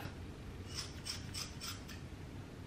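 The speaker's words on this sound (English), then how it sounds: "I take a scissors and I cut it in half" Scissors snip through a length of hair several times in a quick, evenly spaced run of sharp, faint cuts over a low background hiss.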